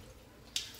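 A single clear drop of water falls from the drainage holes of a potted string of hearts plant, one crisp close drip after quiet.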